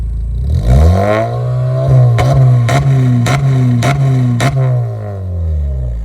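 A stationary Honda City GN with a Kakimoto GTBOX 06&S muffler revs up to 4,000 RPM and hits the limiter, the loud exhaust drone broken by a rapid series of sharp stuttering cuts before settling back down.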